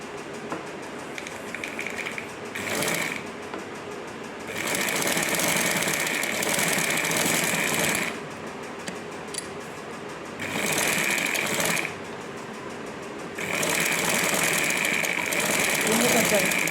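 A sewing machine stitches the back neck of a blouse in several loud, sustained runs separated by short pauses, whirring close by.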